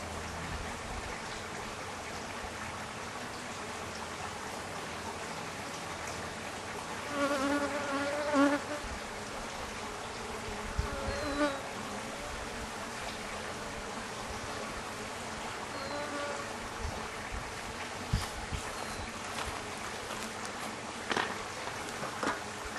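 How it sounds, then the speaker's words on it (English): Honeybees around a hive during a hive check, a steady close buzzing swarm with individual bees droning louder as they pass near, no talking. "The bees were still pretty aggressive towards me"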